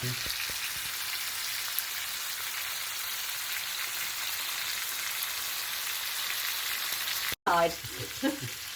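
Onions fry in a pan with a loud, steady crackling sizzle that runs almost unbroken for several seconds, then cuts off briefly before a short burst of stirring and a few clinks.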